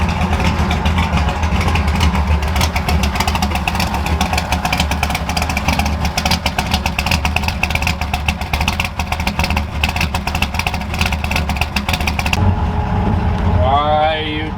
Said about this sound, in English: Cold starts on this thing are like my favorite thing ever.